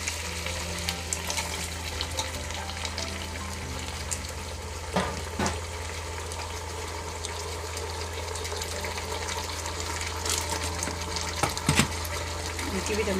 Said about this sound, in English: Let's start adding our tomatoes